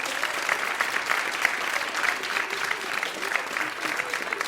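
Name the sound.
audience applause for children's performance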